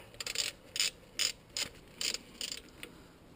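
A ratchet wrench tightens the wheel adapter nuts on a Land Rover Discovery 1 being fitted with modern wheels, giving about seven short bursts of close, crisp clicking with brief pauses between, and no talking.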